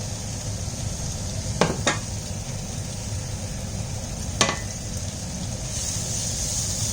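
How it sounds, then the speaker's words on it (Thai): Noodles are stir-fried in olive oil, giving a steady, even sizzle. A metal utensil scrapes and clinks against the pan three times, with no talking. "เราก็จะผัดเส้นนะคะคราวนี้ ใส่น้ำมันลงไปนะคะใส่น้ำมันมะกอกลงไปนะจ๊ะ"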